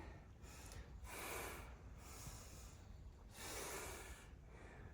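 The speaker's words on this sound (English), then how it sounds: "Big breath in." A deep inhaled breath during a glute-focused hip-hinge workout, drawn twice as loud breathy rushes, each lasting about a second, close to the mic with no talking.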